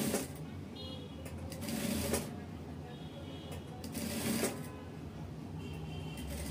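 A sewing machine stitching a blouse sleeve whirs faintly in short bursts, a few separate runs of stitching with quiet pauses between them.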